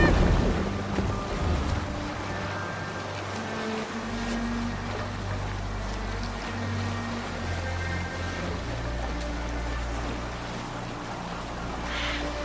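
A sailing ship moving across ocean waves in a video game, with a steady rush of water and creaking hull carrying evenly throughout over a low rumbling bed, no voices.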